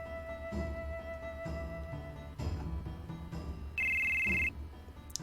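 An electronic cell phone ringtone from the video game Final Fantasy 7 sounds alongside game music tones, then a sustained high ring bursts out loud near the end.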